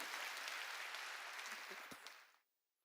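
A church congregation claps during a sermon, dense and steady applause that thins with a few last claps before cutting off abruptly into silence.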